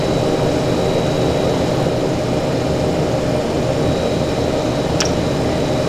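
A Just Flight Fokker F27 turboprop drones in flight in Prepar3D v4.4, a loud continuous engine and propeller roar with a thin steady whine and one brief click.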